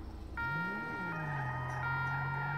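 A police car siren in GTA V wails steadily, with a rising-falling electronic tone and a higher sustained wail layered over low engine rumble, loud and continuous with no talk.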